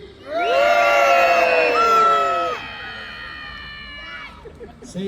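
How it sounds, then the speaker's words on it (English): A crowd of spectators, many of them children, cheering and shouting together at the Peasholm Park naval battle in a loud burst that swells, holds for a couple of seconds, then fades into scattered voices. "I'm going to count to 3, you're going to cheer."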